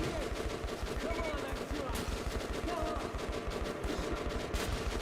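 Enemy gunfire in Metro: Last Light, rapid automatic shots rattling on steadily, close and loud, with voices talking faintly underneath.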